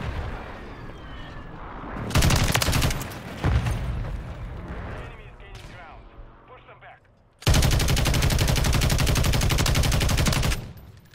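Rapid bursts of automatic fire from a TAQ Evolvere rifle in Modern Warfare 3, one sustained volley early and a longer loud stream of shots later, with quieter game noise and brief sounds between.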